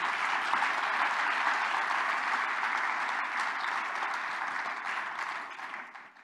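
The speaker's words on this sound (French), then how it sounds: "on peut applaudir les auditeurs Radio Espérance, mes amis" A dense, roaring wave of applause from a French-speaking audience at a talk on Marian prophecies, broad and sustained from many hands, holding steady before tapering off near the end.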